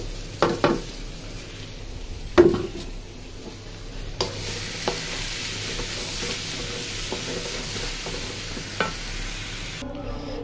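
Polao rice frying with whole garam masala in a pot, a steady soft sizzle with scraping stir strokes and a few louder spoon knocks against the pot, close up with no talking.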